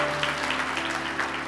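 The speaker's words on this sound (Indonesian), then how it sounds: "Beri tepuk tangan dong buat Tuhan." Congregation applauding during a church healing service, a steady wash of clapping that holds at an even level for the short moment, with faint tonal hum underneath.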